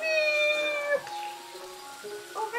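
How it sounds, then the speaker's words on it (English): A cat meows with a long, clear, rising-and-falling call, then gives a couple of shorter meows, close and alone with no talking over it. "Oh, hi, cat. Did I wake you up?"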